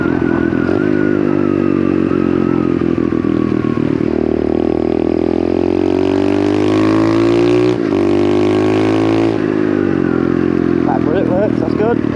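A small pit bike engine drones and shifts pitch as it is ridden, loud and close, with wind buffeting and a voice talking over it.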